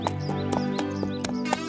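Horse hooves clip-clop at a steady walking rhythm, sharp regular hoof strikes about every quarter second over a steady tonal musical background with faint bird chirps.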